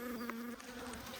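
Italian honey bees buzz steadily inside the top box of a hive, a dense, continuous drone held close and fairly loud throughout, with no talking.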